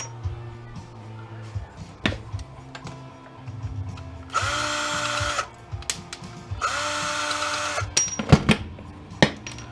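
Power drill backing screws out of an aluminum Baumfolder gate: two sustained whining bursts of the motor, each a couple of seconds long, separated and followed by sharp metallic clanks and taps of handling the scrap, close and loud.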